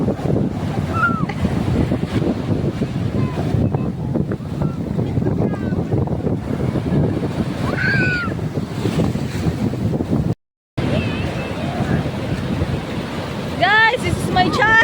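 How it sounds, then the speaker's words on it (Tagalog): Large ocean waves break on a beach shore in a continuous heavy wash, with gusty wind buffeting the microphone and people talking and calling out nearby. "It's a big wave, Erin."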